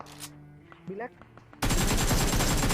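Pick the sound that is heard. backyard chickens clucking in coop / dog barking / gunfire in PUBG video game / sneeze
gunfire in PUBG video game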